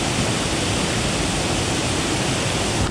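A waterfall at Center Hill Dam gives a steady, close, dense roar of rushing water that stays constant throughout.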